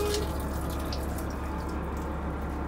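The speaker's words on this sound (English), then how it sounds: "Slow drain because there's paper, but it is draining." Water drains slowly from a shower partly clogged with paper inside a school bus conversion, a soft continuous trickle and gurgle under low background hum.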